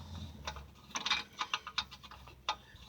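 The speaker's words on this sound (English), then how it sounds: "I'm going to go ahead and loosen up these two bolts that I have up here holding" A ratchet loosens two bolts holding the oil pan on a 2004 Jaguar X-Type, giving short bursts of close, quick mechanical clicks in an irregular rhythm.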